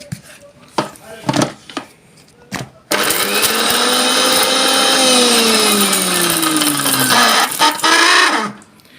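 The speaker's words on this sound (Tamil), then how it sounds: "இதில் பார்த்திங்கன்னா 2 பல் பூண்டு, 2 காஞ்ச மிளகா, ஒரு பச்சை மிளகா, இதை போட்டு லைட்டாக அரைச்சிக்கலாம்." A mixer grinder lightly grinds two garlic cloves, two dried red chillies and one green chilli, running as a loud steady whir for about five seconds after a few sharp knocks and clatters of the jar.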